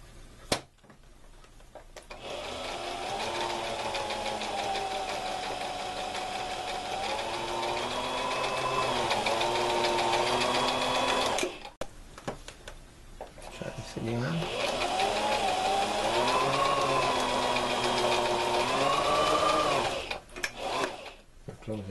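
A sewing machine stitches fabric for a workout set in two long steady bursts of rapid stitching, separated by a brief pause, close and fairly loud.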